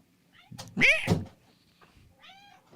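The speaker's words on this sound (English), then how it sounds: "Let me shut this cat up." A house cat meows loudly and close by in one drawn-out, rising and falling cry, followed by a fainter, shorter meow after a pause.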